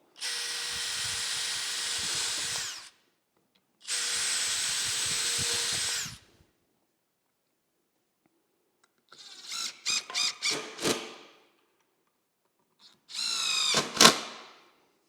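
A power drill bores holes in MDF while building a wall niche, sounding as two long steady whirring runs and then two shorter bursts of stuttering trigger pulses, close and fairly loud, with silent gaps between them.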